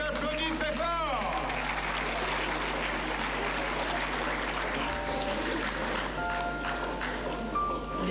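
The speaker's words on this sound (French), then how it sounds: "On les applaudit très fort." Crowd applause for a military judo champion, a continuous wash of clapping under a loud presenter's voice and background hum.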